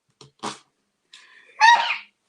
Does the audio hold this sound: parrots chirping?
no